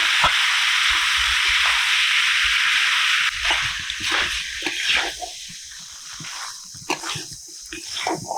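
Boiled rice and vegetables are stir-fried together in a pan for egg chow mein, a loud steady sizzle that drops after a few seconds into quieter frying with scraping and stirring clatter.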